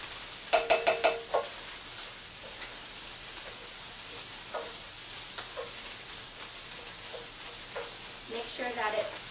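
Food sizzles steadily as it cooks in a pan, a constant bright crackle with a few sharp utensil knocks and stirring scrapes near the start and end, close and fairly quiet.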